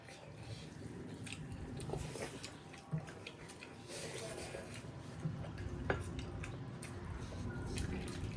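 Close, quiet wet chewing and biting of chicken gizzard during a mukbang meal, with soft squishy bites repeating irregularly and occasional talk in between.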